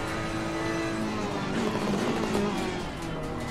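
A Ferrari GT3 Evo race car accelerates on Oulton Park circuit in Assetto Corsa Competizione, its engine a loud, steady high-revving drone climbing through the gear, close and continuous.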